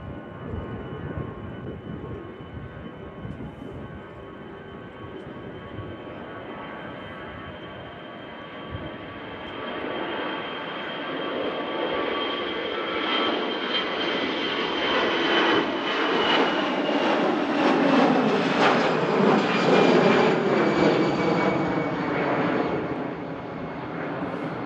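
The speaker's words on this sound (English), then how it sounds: "That aircraft you can hear departing is the EasyJet out to Munich." An EasyJet jet airliner on its takeoff roll at Manchester Airport, a broad engine roar that swells steadily louder and rises in pitch as it accelerates, heard from a distance with no talk.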